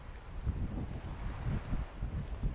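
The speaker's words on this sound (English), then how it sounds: "Wind's picking up again" Gusting wind on the Lanzarote coast buffets the microphone, a low rumbling roar that surges and eases in uneven pulses, with ocean ambience beneath.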